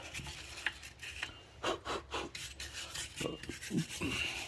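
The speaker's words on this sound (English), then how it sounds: "just quickly brush all this out here with the Y brush" A Y-shaped wire brush scrubbing corrosion out of a Ford Edge front wheel hub during a brake job, a series of short, close, rasping strokes at irregular intervals.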